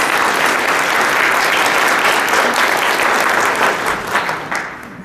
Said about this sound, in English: Penny, and applause.